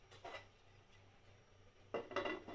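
A lid goes onto a pot of Kerala-style shark fish curry with a clear metallic clatter, followed by a fainter clink earlier, close by in a quiet kitchen.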